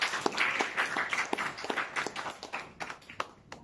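An audience at an evening religious gathering applauds itself, a dense spatter of hand claps rising and easing over a few seconds, close and fairly lively.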